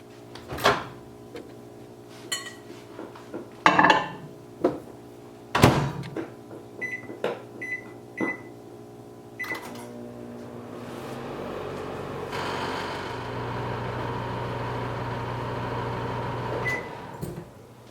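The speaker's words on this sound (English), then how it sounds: "I'm going to take this bowl and put it in the microwave." A bowl of large marshmallows goes into a microwave oven: a series of loud knocks and door or cupboard clunks, a few beeps, then a steady low humming drone as the oven runs alone.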